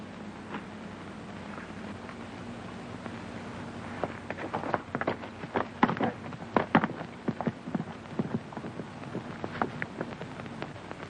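Horses' hooves clop in an irregular patter in a 1937 western, the clip-clop rising to a cluster of sharp, fairly close hits over a steady low hum and hiss.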